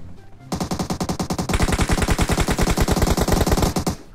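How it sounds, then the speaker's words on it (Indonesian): Rapid automatic gunfire in PUBG Mobile on the snowy Vikendi map, a loud, steady stream of close shots after a brief quiet start, continuing for several seconds. "Aku nembak, aku nembak."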